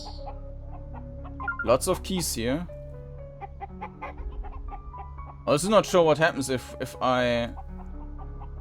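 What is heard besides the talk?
chicken clucking in video game Echoes of Magnus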